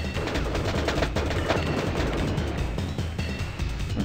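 A giant cannon fires in the Crusader: No Remorse video game amid continuous dense booming and crackling gunfire, loud and sustained throughout with no voices.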